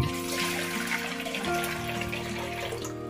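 Dirty, silt-laden water pours out of an RO water filter housing in a steady, splashing stream that runs unbroken and close by, with a faint low hum beneath and no speech.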